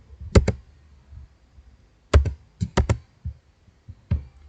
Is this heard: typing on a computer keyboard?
yes